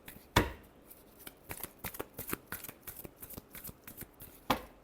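Tarot cards are shuffled in quick, crisp riffles and slaps, a close, steady run of papery snaps with a sharper tap at the start and end.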